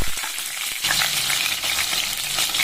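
Onion and garlic sizzling in hot oil with mustard seeds and curry leaves, a loud, close crackling fry that jumps sharply after a stir and keeps popping and hissing without a break.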